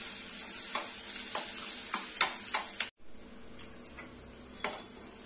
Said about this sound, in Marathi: सो कांदा इथे परतून झालेला आहे।